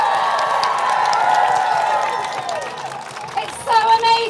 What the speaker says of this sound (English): I want you to give yourselves a massive cheer